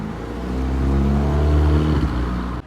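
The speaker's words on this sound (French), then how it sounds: "Bon, là on se retrouve avec une petite Porsche 997 turbo" Porsche 997 Turbo engine revs up with a deep, steady droning note that swells and holds for a couple of seconds, then drops off abruptly, heard nearby on a roadside.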